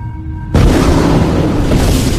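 A supernova explosion effect opens with low rumbling, then erupts into a sudden loud boom that swells into a sustained roaring, hissing blast lasting to the end.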